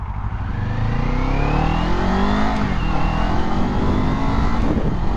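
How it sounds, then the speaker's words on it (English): 2024 Kawasaki Ninja 500 motorcycle engine revving while riding, a loud continuous drone with rising and falling pitch sweeps as the throttle opens, kept to moderate RPM, with steady wind rush. "It is a new bike, so I'm not going to go too high into the RPMs."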